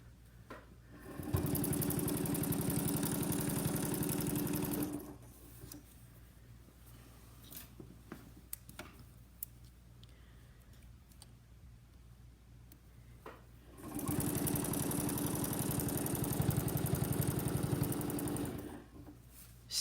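A domestic sewing machine stitches in the ditch on a quilt in two sustained bursts of steady motor whir and rapid needle hum, separated by a quieter stretch of small handling clicks.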